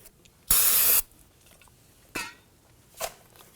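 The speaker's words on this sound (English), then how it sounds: "A little trick on this here is to spray it with some solvent," A single firm hiss from a can of spray solvent lasts about half a second, followed by two fainter short hisses after a pause, during front strut work on a Volvo XC90.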